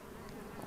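Honeybee colonies buzzing at a beehive, a steady dense drone that stays close and even throughout, with no voices.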